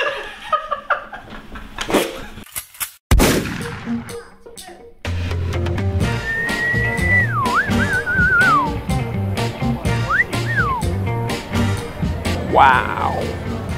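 In a coffee shop, a two-note rising-and-falling wolf whistle rings out, followed by shorter whistles and a laugh, over background chatter.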